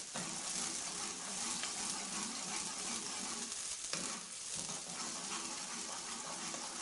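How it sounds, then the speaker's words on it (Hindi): Chopped onions sizzle and fry steadily in a pan while being browned for a chicken and ridge gourd curry, a continuous close crackling hiss with occasional stirring. "हमारे प्याज सुनहरी होना शुरू हो गए हैं।"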